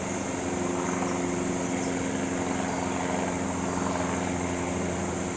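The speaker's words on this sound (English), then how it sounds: "There's an airplane flying over, so you can hear an airplane." Steady droning roar of a propeller airplane passing overhead, continuous and fairly loud with a constant engine hum throughout.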